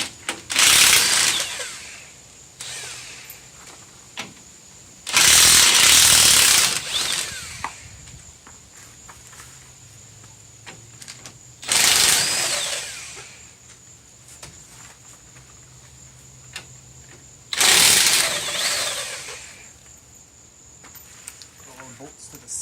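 A power tool unbolts lift kit parts from the frame of a Chevy K1500 pickup. It comes in four loud, harsh bursts of a second or two each, separated by quieter stretches with talking.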